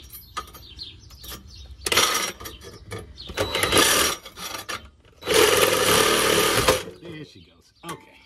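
A very long reciprocating saw blade cuts through the exhaust pipe under a 2009 Ford Escape, giving three loud, harsh bursts of rapid buzzing, separated by short pauses and quieter handling noise.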